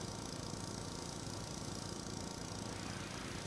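A tractor engine idles in the Farming Simulator 17 video game, a constant, even, low mechanical drone at moderate volume with no talk.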